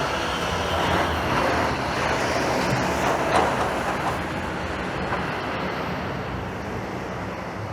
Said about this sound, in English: There's a 504 King streetcar.